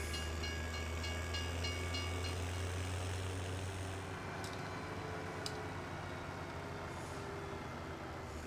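Train rumble from a farming simulator video game at night, a steady low continuous drone with a faint metallic hiss and a couple of brief clanks, distant and even, no talk.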